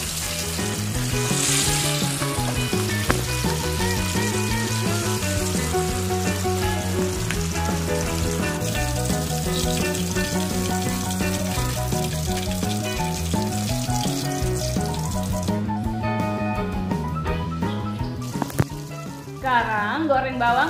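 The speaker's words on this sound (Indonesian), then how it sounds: "Teruskan goreng semua ayamnya sampai selesai." Oil sizzles and crackles steadily as chicken pieces fry, a continuous close frying hiss lasting the whole stretch, with music playing over it.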